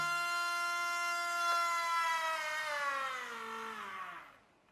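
A small motor driven by a mini ESC on a servo circuit board runs at full speed, giving a loud, steady high-pitched whine that slowly drops in pitch and fades as it winds down, with no other sounds.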